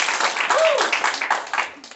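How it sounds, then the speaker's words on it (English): An audience claps together at a holiday improv show, a dense burst of hand claps lasting about two seconds, with a voice talking over it. "Everybody clap."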